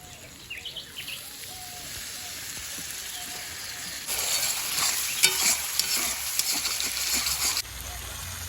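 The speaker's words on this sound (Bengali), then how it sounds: "বাটির মধ্যে যে মশলাটা লাগিয়ে আছে ওই বাটি ধোয়া জল একটু দিয়ে দিব।" Water poured into a pan of sizzling fish masala for doi katla, a loud burst of frying hiss in the second half after quieter sizzling and stirring, with faint birds in the background.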